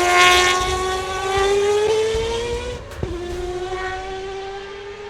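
Mazda 787B Le Mans race car with a rotary engine screaming at high revs, a loud sustained harmonic engine note rising in pitch, briefly dipping on a shift before pulling hard again.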